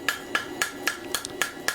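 A hammer dishes a stainless steel spoon over the pritchel hole of an anvil in steady, evenly spaced ringing metallic strikes, about seven blows in under two seconds, close and clear.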